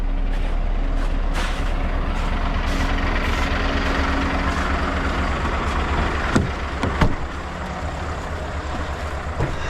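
A truck engine idles in snowy Norway with a steady, close, low rumble, and a couple of short sharp clanks or hisses come near the end.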